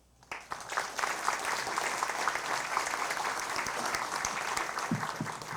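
An audience at a criminology conference applauds the dean, a steady, dense round of clapping that starts abruptly and holds at an even level for several seconds without voices.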